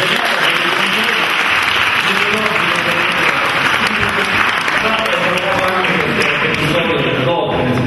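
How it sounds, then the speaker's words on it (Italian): Sustained applause from an audience at an award ceremony for finalists of the Premio Sila literary prize, a dense, loud wash of clapping that holds steady throughout without breaking off. "Un applauso al dottor"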